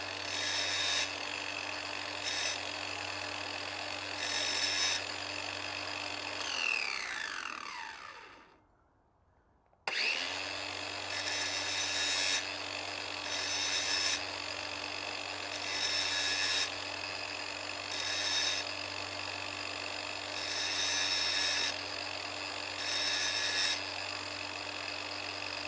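Power tool grinding down sharp corners in a smithy, a loud steady whir with a low hum and repeated brighter surges of contact, spinning down into silence midway, then starting up again and continuing.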